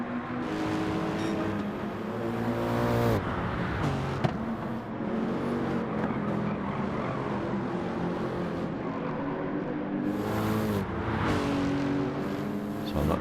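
A race car engine during a lap in Gran Turismo 7, droning steadily with rising and falling revs, sharp gear shifts and brief passing roars, loud and continuous with no talking.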